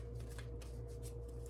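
Large oversized oracle cards shuffled by hand, a steady papery riffling and slapping close by, continuous over a low constant hum with no talking.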